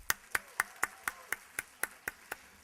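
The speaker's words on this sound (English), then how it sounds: "let's hear a big round of applause." Evenly spaced claps, about ten over under three seconds, from a speech contest audience at a humorous speech contest final. The sharp, crisp strikes come at a steady rhythm, close and moderately loud, fading slightly toward the end with no talk.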